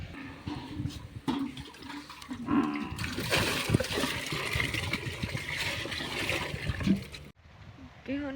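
Water from a household tank being poured and splashed out while cleaning a water tub, a continuous loud splashing rush for several seconds that cuts off abruptly near the end, with voices talking over it.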